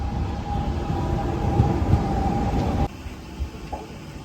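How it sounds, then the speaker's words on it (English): A funicular railway car at Montserrat, Spain, rumbles along with a steady mechanical whine, then the rumble abruptly drops to a quieter hum, close by. "So we just need to ride the funicular."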